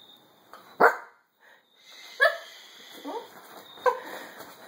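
A dachshund puppy gives a few short, sharp yips and barks spaced about a second apart, close and clear in a quiet room, with a person speaking softly between them.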